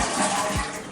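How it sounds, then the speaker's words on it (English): A toilet flushes during a fill valve replacement with the tank lid off, giving a steady, close rush of water that runs the whole moment without pause, no voices over it. "Flush your toilet."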